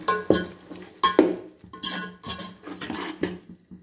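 Coriander and ginger-garlic paste stirred in a pot for egg dum biryani, a spoon knocking and scraping against the metal in uneven strokes, close and clear with no talking.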